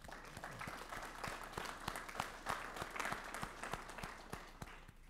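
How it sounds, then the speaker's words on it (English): A school board meeting audience gives a round of applause, steady overlapping clapping at moderate distance, fairly quiet and even throughout, tapering slightly at the end. "so just a round of applause for all of them"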